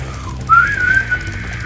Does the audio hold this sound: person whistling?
yes